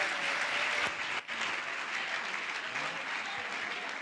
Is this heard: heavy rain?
no